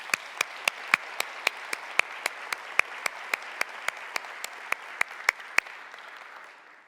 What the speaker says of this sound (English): Let's give Pat another round of applause.